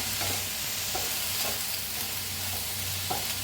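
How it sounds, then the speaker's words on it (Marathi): Salt stirred and dry-roasted in a pan on a home stove while preparing chole puri, a steady close sizzle with soft scraping strokes of the spatula recurring about every half second, no voices. "मीठ टाकल्याने लगेच भाजलं जात आहे"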